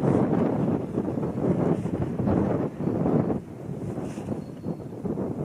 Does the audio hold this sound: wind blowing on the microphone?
yes